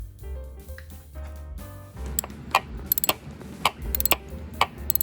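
A socket wrench with a 5/8 socket ratchets on the spark plugs of a 2JZ engine in a GS300. Crisp, close clicks come in quick bursts after a few seconds of metallic handling noises.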